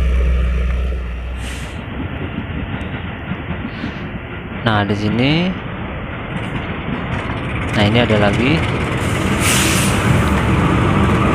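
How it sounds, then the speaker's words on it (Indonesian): A train rumbles past a Jatinegara depot in Jakarta with rolling wheel clatter and a brief high brake squeal, while someone talks over it. "melintas kereta api dari arah stasiun Manggarai"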